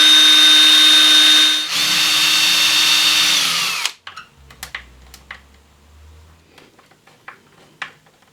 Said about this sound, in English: so I'll have to drill them.